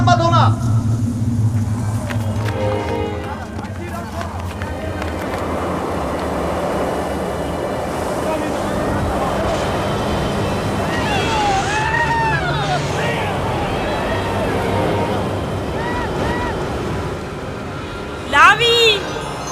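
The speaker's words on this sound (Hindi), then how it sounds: "तूफान शुरू हो गया है" Storm wind sweeps through a scene from a historical drama about the Prophet Yousaf, a steady roaring rumble that holds at an even loudness throughout, with faint voices in the background.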